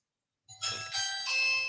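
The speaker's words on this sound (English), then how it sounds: "Doorbell ringing." A doorbell rings with a two-tone ding-dong chime, clear and close, sounding alone after a short silence.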